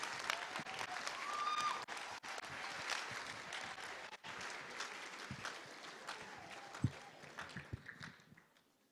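A dinner crowd at a Cardinal Cushing spring reunion gives scattered, fairly distant applause. The clapping is uneven, with occasional louder claps and thumps, and fades gradually over several seconds.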